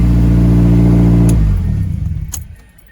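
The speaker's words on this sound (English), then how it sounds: "Let's make sure the car starts. That's how we know it's good to go." A Mazdaspeed6 engine runs loud and close at a steady idle after a Wotbox install, then drops away and winds down, followed by a couple of sharp clicks.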